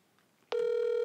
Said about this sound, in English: All right, we're calling.